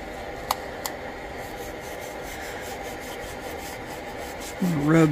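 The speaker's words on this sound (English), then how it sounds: "Rub some of that roughest rust off her" A small ball of steel wool scrubs rust off a Coleman Air-O-Lantern with a continuous faint rasping rub, two sharp ticks early on and a louder scrape near the end.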